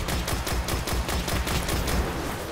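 Rapid, loud gunfire in the Destiny video game rattles in a dense continuous burst of repeated shots, with no talk over it.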